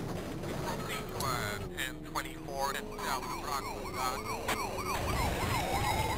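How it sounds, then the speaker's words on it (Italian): Police siren in the 1998 PlayStation GTA game wails in rising and falling sweeps, fairly loud, over game noise and engine sounds, with a voice talking over it. "guarda che l'attivo pure io la sirena, ce l'ho pure io"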